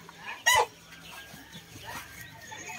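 A backyard chicken gives a single loud, short cluck near the start, followed by faint quieter clucks and farm ambience.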